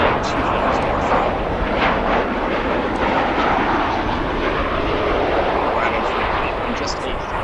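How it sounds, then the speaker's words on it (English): A United Boeing 737-800 jet departs O'Hare, its engine roar a loud, steady broadband rumble that holds throughout without letup; talk may sit underneath. "This 737-800 delivered new to United 18 years ago."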